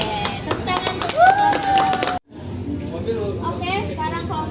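A group of students in an outdoor maths class claps together for a classmate's group, brisk rhythmic clapping mixed with children's voices, cut off briefly midway before chatter and noise resume.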